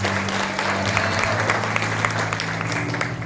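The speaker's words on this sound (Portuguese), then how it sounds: "E eu quero pedir uma salva de palmas mais uma vez à congregação Belém." A church congregation, the Belém congregation, applauding steadily as a dense, continuous wash of clapping, loud and close, with a low sustained hum running underneath throughout.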